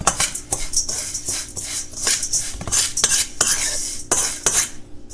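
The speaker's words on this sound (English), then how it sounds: "So I'm going to stir that all up." A spoon stirs oatmeal batter with baking powder for pumpkin baked oatmeal, scraping and clinking against the bowl in quick, regular strokes, close and fairly loud.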